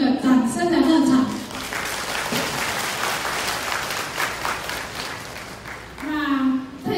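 An indoor audience at a gratitude sharing event in Tainan breaks into sustained clapping, with a person speaking just before and again as the applause fades.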